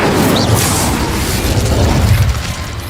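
A loud, roaring fiery blast from the Incendio spell in Hogwarts Legacy, a sustained whooshing burst of flame and booming rumble lasting a few seconds with no talking.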